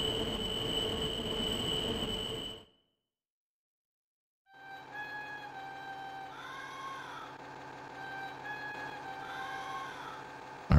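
Train sounds in the Chulip video game: a dense rumbling run stops abruptly into silence, then a steady rolling drone resumes with high wavering squeal-like tones rising and falling twice.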